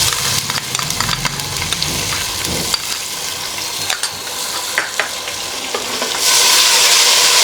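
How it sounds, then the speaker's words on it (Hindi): Ginger and garlic paste fries with onions in a pan, giving close crackling sizzle and scraping stirs with sharp spatula taps, then the frying hiss swells louder near the end. "और इन्हें 2 से 3 मिनट के लिए फ्राई करेंगे।"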